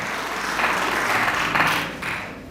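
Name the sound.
applause for the best female debater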